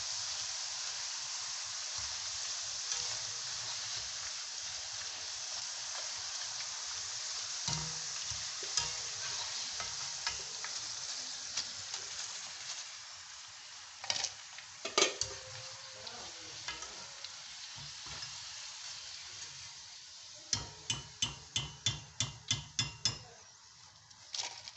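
Homemade potato chips fry in hot oil with a soft, continuous sizzle, broken by occasional clinks and a quick run of sharp metallic taps near the end, with no voices.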